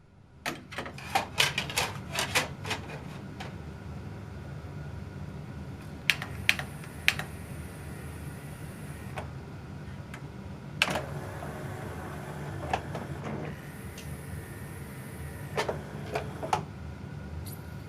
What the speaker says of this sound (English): the disc going into the machine and the clamp picking it up